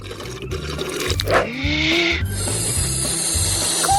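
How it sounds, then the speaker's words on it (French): A cartoon bubble-blowing effect plays alone: watery bubbling with a rising, gurgling tone, then brighter fizzing. "Je vais faire des bulles."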